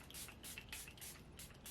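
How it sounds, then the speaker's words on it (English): Charlotte Tilbury Flawless Airbrush setting spray is misted in a quick series of soft, close hissing bursts, four or five short sprays in a row with no talking. "I want to end it with the Charlotte Tilbury Flawless Airbrush Flawless Setting Spray. And I just spray this."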